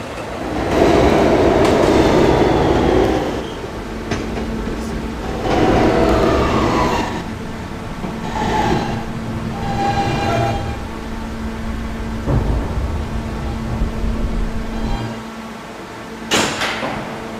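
A Kawasaki R160 Siemens E subway train running loudly, with rumbling motion, clattering wheel noise and brief screeches and bangs over a steady motor hum; no talking.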